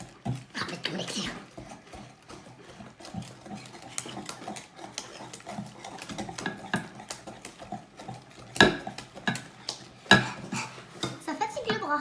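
Chocolate cake batter stirred vigorously in a bowl, a spoon clattering and scraping against the sides in quick irregular strokes, close and sharp, with a child and an adult talking in French between strokes.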